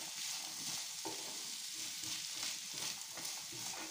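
Chopped beans stir-fried for a Tamil side dish, with a steady sizzle and frying hiss throughout and a spatula scraping and stirring through the pan in irregular strokes. No voices.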